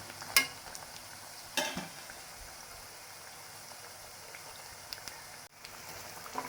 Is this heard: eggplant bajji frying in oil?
yes